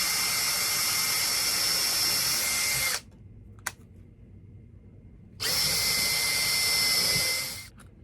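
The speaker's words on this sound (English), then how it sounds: "we're gonna pop a couple holes, pilot holes in this." A power hand drill whines loudly for about three seconds boring a pilot hole, stops with a brief click, then runs again for a couple more seconds before winding down.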